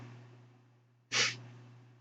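A single short, sharp sniff close to the microphone, breaking an otherwise quiet room with a low steady hum.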